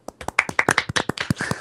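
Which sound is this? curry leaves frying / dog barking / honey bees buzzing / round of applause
round of applause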